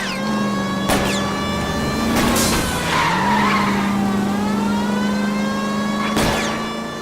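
Tires skid and squeal during a car chase in the video game L.A. Noire, with a steady engine drone beneath repeated sharp skid bursts and shifting engine pitch.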